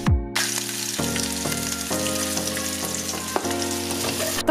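Boiled eggs sizzle and fry in hot olive oil in a pan for egg curry, with steady loud crackling and occasional stirring scrapes throughout, no voices.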